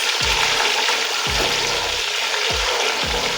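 Chopped onions fry in oil in a pan, a steady loud sizzle with a few soft scraping strokes of stirring at regular intervals, close and without talk.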